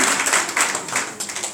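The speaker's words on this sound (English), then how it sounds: "just clap your hand for the Lord." Church congregation clapping hands in a quick, uneven rhythm during worship, moderately loud and close, with no speech.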